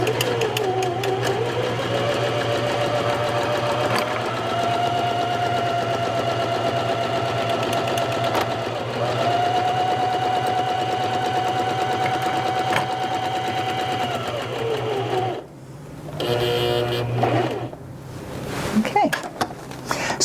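A Janome HD5000 sewing machine stitches a buttonhole, its motor running in a steady, rapid mechanical chatter for about fifteen seconds with a brief pitch change, then stopping and restarting in short bursts under a speaking voice.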